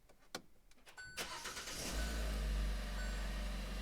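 A Hyundai Tucson engine started with the push stop-start button: a few clicks and chimes, a brief crank, then the engine catches and settles into a steady close idle, with no talk.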